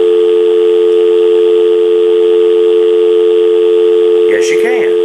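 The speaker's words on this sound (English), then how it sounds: "can you check out the third handset's dial tone on the speakerphone" A Uniden TRU8885 cordless handset, the third in the set, plays a steady, loud dial tone over its speakerphone, running unbroken until a voice briefly breaks in near the end.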